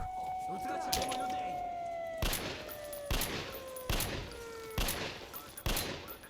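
Several sharp bursts of rapid PKM machine gun fire in the video game Metro Last Light, separated by short pauses, with a steady electronic tone running underneath.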